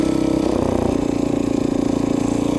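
A Briggs 5HP engine on a minibike chopper runs at a steady fast idle, close and loud, with a rapid even pulsing putter throughout.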